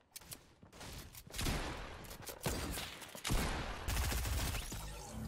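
Gunfire in Fortnite during an attempted spinning trick shot, several loud booming blasts with echoing tails separated by short gaps, heard alone without talk.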